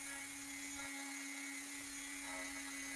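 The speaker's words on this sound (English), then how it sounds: "I grabbed a trusty old Dremel with a sanding bit, and I rounded off all the tenons" A Dremel rotary tool fitted with a sanding bit rounds off wooden tenons, making a steady, high-pitched whine that runs without a break for a few seconds, faint and with no voices over it.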